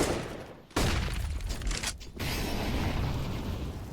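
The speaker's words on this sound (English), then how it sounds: "Oh, decent nade damage." A grenade goes off in a Counter-Strike match, a sudden loud broadband blast followed by sustained rumbling noise and a second burst a moment later.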